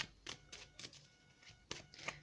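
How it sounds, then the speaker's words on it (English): Tarot cards being shuffled by hand, a series of quick soft riffling bursts at irregular intervals, close and quiet, no talking. "Okay, I'm going to shuffle the cards on camera."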